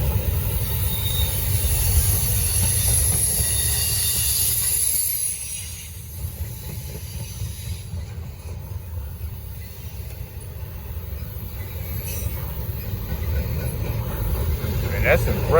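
A long Norfolk Southern freight train rolling past steadily and close, with a continuous rumble, clatter of wheels and faint high squeal, while people talk over it at times.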